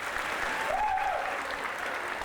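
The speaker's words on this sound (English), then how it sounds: "Let me hear this side clapping." A crowd at a juggling show claps in a short, dense burst of moderate loudness, with a brief vocal whoop rising through the middle.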